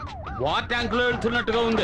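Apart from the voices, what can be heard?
vehicle siren blaring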